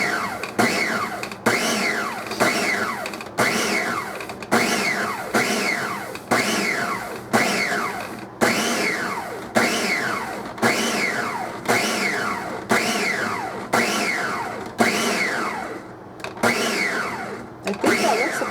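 A food processor pulses butter into cheese snack dough in short, loud, evenly spaced bursts, each whirring up and cutting off, repeating steadily for the whole stretch with no voices.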